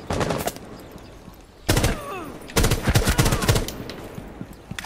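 Bursts of loud close gunfire in Rainbow Six Siege, a rapid volley at the start followed by two heavier automatic bursts after short pauses, sharp and punchy with nobody talking.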